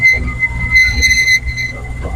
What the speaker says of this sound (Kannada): ನಮ್ಮ ಒಂದು ಟ್ರೈನ್ ಜರ್ನಿ ಸ್ಟಾರ್ಟ್ ಆಯ್ತು